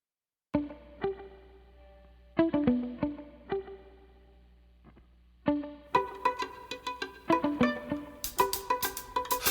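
A recorded song plays, with sparse plucked, effect-laden guitar notes that swell into a fuller, busier strummed passage. No voices are heard over the music.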